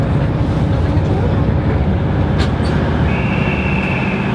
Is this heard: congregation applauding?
no